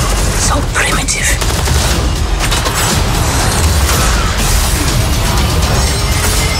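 Dense gunfire and mechanical clatter in a trailer for the film Black Panther, loud and continuous with booming low end and rapid bursts throughout, mixed under a dramatic score.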